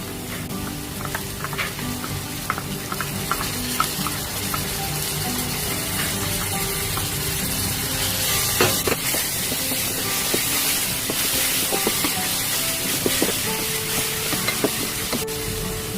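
Ginger garlic paste fries in a pan for a fish curry, giving a steady sizzle with scraping stir strokes all the way through. It is close and fairly loud, and no one talks.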